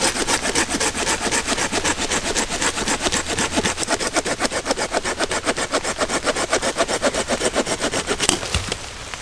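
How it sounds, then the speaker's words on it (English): Rapid rhythmic rasping of a Pocket Boy folding saw cutting through a dry branch outdoors in the rain. The strokes are close, loud and steady for about eight seconds before the cut finishes with a snap. "this is the Pocket Boy saw"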